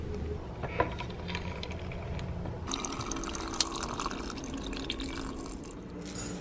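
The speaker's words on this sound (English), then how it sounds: "Now I am making my lime water." Lime water being poured into a Yeti bottle indoors, a soft trickle and splash of liquid with a couple of small clinks, fairly quiet and close.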